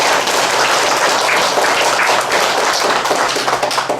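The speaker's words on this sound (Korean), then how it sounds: "여러분들의 큰 박수를 한번" Dense, steady applause from a large audience at a church gathering, many hands clapping continuously at close range, loud and even throughout with no speech.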